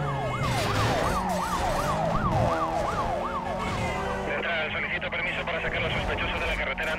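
In Need for Speed Most Wanted, a police car siren wails in rapid up-and-down sweeps, then shifts to a steadier, higher tone alongside engine noise and game sounds, while a person talks over it.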